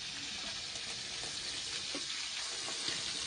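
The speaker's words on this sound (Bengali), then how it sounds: "এবার চিংড়ি মাছগুলো কিন্তু একদম হালকা করে ভাজতে হবে" Prawns frying in a generous amount of hot oil give a steady, close, hissing sizzle that holds evenly throughout, with no talking.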